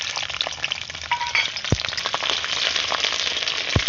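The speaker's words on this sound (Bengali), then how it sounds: "রসুনগুলো গোটা ভেজে নেব।" Whole garlic cloves fry in white oil in a hot kadai, giving a steady close sizzle and crackle with a few sharp pops along the way.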